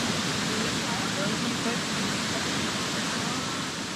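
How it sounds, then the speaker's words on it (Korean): A powerful waterfall in central Vietnam, its strong stream crashing into white foam, gives a dense, steady roar that fills everything at close range with no break. "세찬 물줄기가 하얀 포말이 되어 부서집니다"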